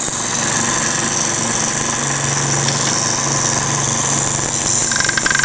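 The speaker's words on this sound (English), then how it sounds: "Now we're ready to grind." A powered grinder works steadily on a knife blade from a knife kit, giving a loud, continuous high whine and rasp that holds throughout at close range with little variation.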